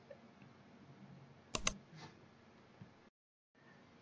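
Computer mouse gives a quick, sharp double click in an otherwise quiet room, followed by faint soft ticks.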